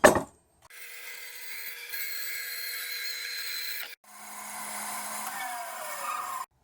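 Hand sawing through a wooden board to trim it to length, two sustained bursts of steady close rasping strokes separated by a short pause, with no talking.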